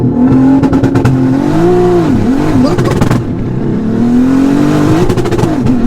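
Sleeper car launching hard from a standstill and accelerating through the gears, a loud close engine roar rising and dropping with each shift, with brief boost-cut crackles; voices talk over it.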